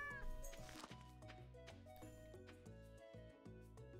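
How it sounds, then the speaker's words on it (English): A cat meowing in the Stardew Valley video game, a noisy call mixed into the game's background music at low volume. "A noisy cat."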